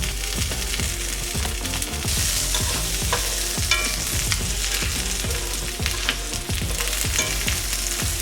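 Steady, dense sizzling of a vegan birria taco frying in chili oil in a hot pan, with scraping and stirring clatter running through the whole stretch and a brief clunk as the taco is flipped, no voices.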